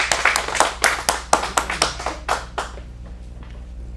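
A small audience claps for a young performer at a kids' acting showcase in a Phoenix studio, a dozen or so sharp, uneven claps with a cheer, tapering off after about three seconds over a low hum.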